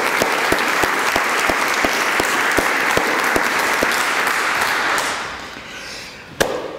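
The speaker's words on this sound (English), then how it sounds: "I'd just like a quick applause." Conference audience applauds steadily, a dense wash of clapping with a few sharp individual claps standing out, fading toward the end with one loud clap near the close; no talk over it.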